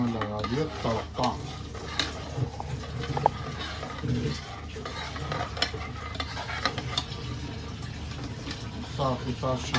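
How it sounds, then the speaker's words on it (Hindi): A tadka is added to a chickpea curry (chole): a spoon stirs and scrapes through the pan over a steady sizzle of frying, close by, with a person talking over it. "छोलों में लगा दिया तड़का।"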